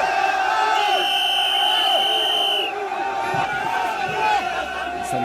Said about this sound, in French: les slogans qui sont scandés, vous les entendez